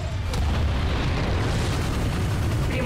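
Rocket explosion in the Ratchet & Clank video game, heard as a loud, sustained rumbling boom with a sharp initial burst that holds steady and dense for about three seconds.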